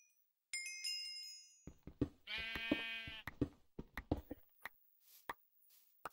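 A sheep bleating in modded Minecraft, one drawn-out wavering bleat in the middle, surrounded by a scatter of sharp clicks and hits, close and clear with no speech.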